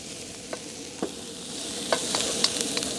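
Garlic sizzles in soft butter in a pan, a steady crackling fry with a few light stirring clicks and scrapes, close and moderate in level, with no talk.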